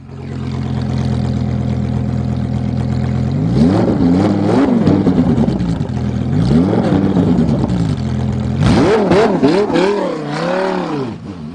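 A Lamborghini race car engine fires up and idles roughly, then is blipped through several rising and falling revs, ending in a harder, louder run of throttle bursts, close and steady with no speech.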